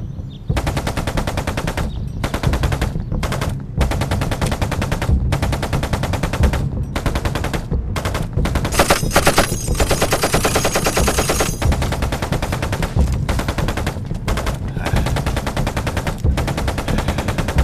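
Sustained machine gun fire with live ammunition in a period TV drama, loud rapid bursts with short gaps that run almost continuously, with no speech over them.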